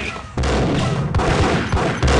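Shotgun blasts in the video game Max Payne fire in rapid succession, each a loud, close boom with short gaps between shots.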